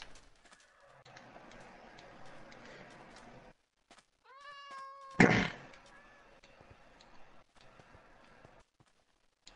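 Several cats meow in the video game Minecraft, a few short rising mewing calls clustered together mid-clip over steady game ambience, with a louder burst just after.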